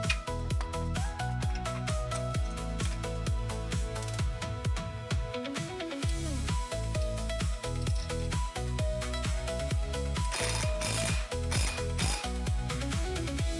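A ratchet clicks steadily and rapidly, close and clear, as hardware is tightened on a basketball system's spring and spacer, with brief pauses and a few clinks between runs of ratcheting.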